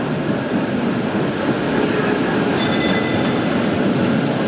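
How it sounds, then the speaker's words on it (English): A train in Wroclaw, Poland, rumbles past close and loud, a continuous heavy roar of rolling wheels with a brief high squeal partway through. "Oh, there's a train coming."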